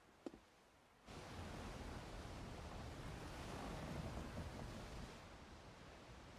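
Calm sea waves roll in Monster Hunter Rise: Sunbreak. After a soft click, a broad, steady wash of surf rises abruptly, holds evenly, then eases slightly near the end with no voices.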